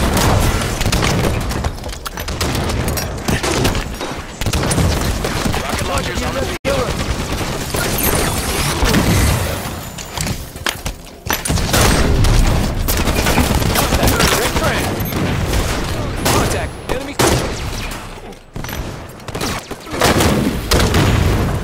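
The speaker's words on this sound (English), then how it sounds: "Sniper fire." Sniper rifle fire in the video game Halo 5 comes as repeated sharp, loud shots over a dense, busy battle din that runs throughout without a break.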